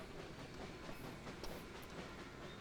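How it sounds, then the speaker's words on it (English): A train in the video game Trainz 2022 rolls along steadily with a faint, continuous rumble and rail clatter, quiet and unbroken. "We'll get a train going along. So we have a train moving."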